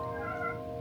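A newly adopted pet cat lets out a single soft, drawn-out meow indoors, faint beneath a steady background hum.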